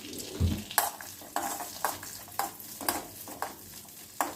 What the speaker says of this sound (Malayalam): ഇതിനകത്തേക്ക് ഞാൻ കാഷ്നട്ടും അതേമാതിരി തന്നെ കിസ്മിസും ഇടുകയാണ്. അതൊന്ന് ജസ്റ്റ് ഒന്ന് റോസ്റ്റ് ചെയ്ത് നമുക്ക് എടുക്കണം.